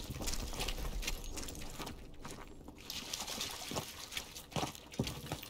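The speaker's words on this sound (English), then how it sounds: "It's water. River must be close." River water flows steadily in Call of Duty WWII, a soft continuous rushing and trickling wash at moderate distance with a few brief splashy accents toward the end.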